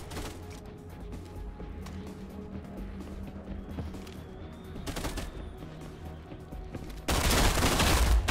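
Rapid bursts of gunfire from a VR shooting video game, with repeated shots through the clip, some louder blasts near the middle and a dense loud barrage at the end, over a steady game background.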